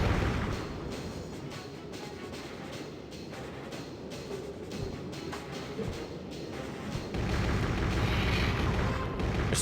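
Enemy gunfire in Turok: Evolution, a continuous rumble of booming shots and explosions that stays loud and dense throughout, with heavier blasts near the end.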